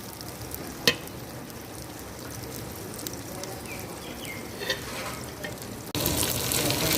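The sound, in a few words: okra (bhindi) frying in oil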